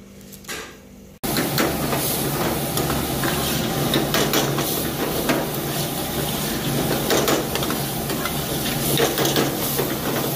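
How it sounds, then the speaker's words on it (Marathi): Parathas cooking on a hot griddle in a Kolhapur dhaba kitchen give a steady, loud sizzle with scraping and stirring clatter, starting abruptly after a quiet second and running continuously with no talk. "तर आता 3 थाळीचे पराठे भाजायला चालू आहेत."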